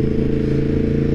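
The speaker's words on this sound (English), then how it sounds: "It's an inline four cylinder with a lot of character." Steady engine note from a decatted Yamaha MT-10 inline four-cylinder motorcycle, a close, loud, even drone with rich low harmonics and a faint mechanical clatter, no voices.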